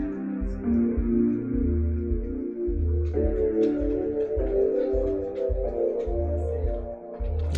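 Synth guitar chords from a software synth in an FL Studio beat for a Ugandan-style track, strummed patterns over a punchy low kick pattern, moderately quiet and steady.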